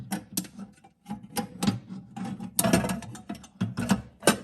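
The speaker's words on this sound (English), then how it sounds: "So let's try that again. Take the peg out." Mechanical clicking and ratcheting from pulling the peg out of a Waring Pro professional popcorn machine, a close series of irregular clicks and clatters with no talk.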